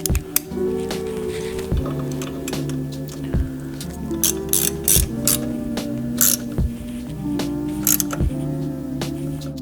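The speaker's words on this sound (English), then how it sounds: "now we're just going to get these bolts torqued down" A ratchet torquing down engine guard bolts on a Triumph Tiger 900, making repeated clicking bursts at an uneven rhythm with short pauses between strokes, close and clear with no talking.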